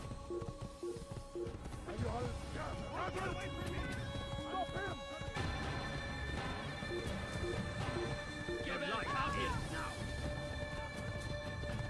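A horse neighs and its hooves clop in the Assassin's Creed video game, under steady game music and a voice talking throughout, with the whinnies and hoofbeats mixed in fairly low.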